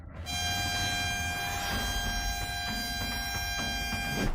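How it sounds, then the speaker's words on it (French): Several vehicle horns blare in sustained, overlapping tones, with pulsing blasts repeating over steady traffic rumble, loud and continuous throughout. "Les klaxons des voitures commencent à résonner sur la route."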